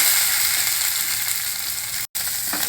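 Chopped okra (lady's fingers) stir-fries in a pan with spices, a loud, steady sizzle broken by one short cut, with faint stirring scrapes near the end.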